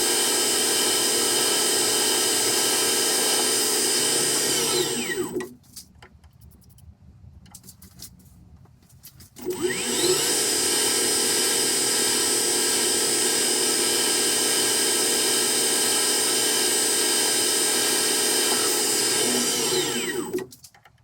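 A Myford Super 7 lathe finishes a steam engine piston to size: a steady, close motor whine with a tonal hum runs, cuts out for about four seconds, then resumes to the end. No one speaks.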